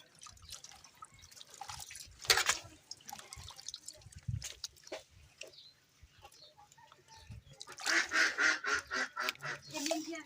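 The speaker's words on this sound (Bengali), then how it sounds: "হলুদ ধুচ্ছি।" Water drips and splashes intermittently while fresh turmeric roots are washed by hand in a village kitchen, with a louder burst of rhythmic splashing near the end and some farmyard noise in the background.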